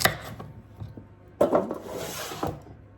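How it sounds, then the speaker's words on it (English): Onions and carrots are diced on a cutting board, with a few close, sharp knife chops and scraping rubs arriving in short irregular bursts, and no talking. "what you want to do is dice your onion"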